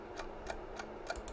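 Clock sound option in the video game Universe Generator: a steady series of soft, crisp ticks at an even pace over faint background noise, with no talking.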